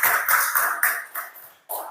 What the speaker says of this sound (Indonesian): Tepuk tangan dong buat kalian